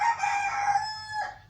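A rooster crows once in the morning in Desa Eri, Niwe village, Ambon, Maluku, a single clear, fairly close cock-a-doodle-doo lasting over a second, with no other sounds around it.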